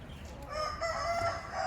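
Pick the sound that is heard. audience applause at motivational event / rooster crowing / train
rooster crowing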